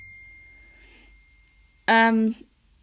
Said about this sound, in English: Sorry about that ping. That was just a message coming through.